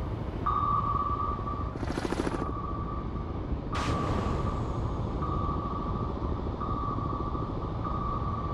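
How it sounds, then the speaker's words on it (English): An incoming torpedo in the submarine game Cold Waters: a steady high sonar tone sustained throughout, two short bright hissing bursts breaking in, over a constant low rumbling drone. "Another torpedo!"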